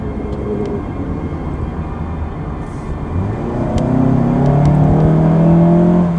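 A Mazda CX3 1.4 turbo SUV accelerates hard, its engine note rising into a loud, steady drone that swells from a low rumble to a strong, sustained pull over several seconds, with no talking.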